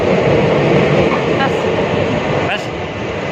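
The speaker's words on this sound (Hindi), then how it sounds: "जो हमारी ट्रेन थी वो हमें अलविदा कर गई।" A train pulls away from Rohtak railway station with a steady, loud rumble of wheels and carriages close by, and a brief squeal rises partway through.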